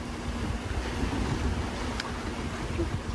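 A sailboat running almost dead downwind under jib alone in a light swell, with steady wind and water rushing past the hull, a continuous wash with no talk.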